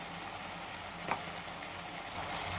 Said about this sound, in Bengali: এবার ভালো করে কষে নেবো মশলাটা।